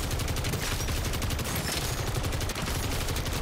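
Rapid automatic fire from a TAQ Evolvere rifle in Modern Warfare 3 Zombies, a dense, unbroken burst of loud gunshots running the whole stretch against armored zombies.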